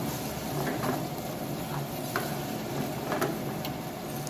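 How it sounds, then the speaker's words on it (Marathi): Mutton fries in a pan at a Kolhapur dhaba kitchen, giving a dense, continuous sizzle with occasional stirring scrapes and light clinks, fairly quiet and steady throughout with no talking. "मटण फ्राय बनवायला चालू आहे."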